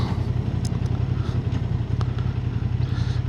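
A Honda Hornet 750 motorcycle with a quick shifter is ridden, its engine producing a steady, loud low throb with wind and road noise and a few faint clicks, no talking.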